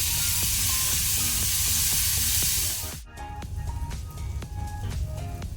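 Onions frying in a pan for brinjal palya hiss in a strong, dense sizzle for about three seconds. The sizzle then drops away to a quieter crackle with light scraping and clinks.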